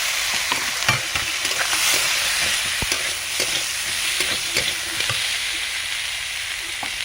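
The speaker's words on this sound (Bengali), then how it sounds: "সরষে বাটা, চালমগজ বাটা, সবগুলো একটু সঙ্গে ভালো করে ভেজে নেব।" Mustard paste and ground melon-seed paste fried together with boiled jackfruit seeds and potatoes, a loud continuous sizzle broken by frequent sharp clicks and scrapes of a spatula stirring in the pan.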